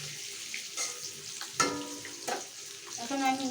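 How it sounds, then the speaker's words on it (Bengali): Pointed gourd pieces fry in oil with turmeric and salt, a close sizzle broken by a few sharp utensil clinks and scrapes, with no voices. "বন্ধুরা দেখুন আমার কাঁকরোলগুলো ভাজা হয়ে গেছে।"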